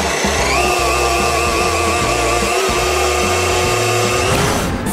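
Kitchen blender running at full speed, blending strawberries into a smoothie, a loud steady motor whir with churning pulses that holds for nearly five seconds and winds down abruptly at the end.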